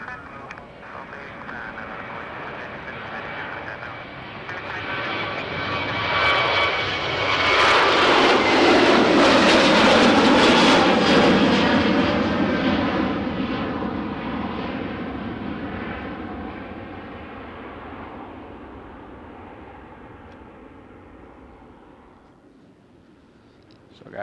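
A Boeing 777-300 jet takes off from runway 36L at Amsterdam Schiphol Airport, its engine roar swelling from a distant rumble to a loud, broad peak as it passes, then slowly fading away.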